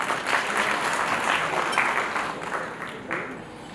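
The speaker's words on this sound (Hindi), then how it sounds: "हमारे युवा आइकॉन के लिए भी तालियां बजा दें" Audience at a jewellers' association swearing-in ceremony clapping for a guest, a dense, fairly loud burst of applause that holds steady for a few seconds before easing slightly.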